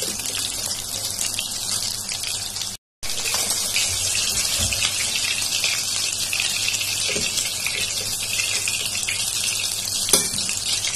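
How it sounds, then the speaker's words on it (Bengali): Tengra fish sizzling in hot oil, a dense, steady crackle and hiss close by with a brief break, then continuing with scattered pops, no voices. "মাছগুলি আমার ভাজা হয়ে গেছে, এখন আমি উঠিয়ে নিচ্ছি।"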